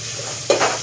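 Spiced tempering (vaghar) hits hot oil in a home kitchen pan, a sudden sharp sizzle bursting up midway over a low, steady frying hiss.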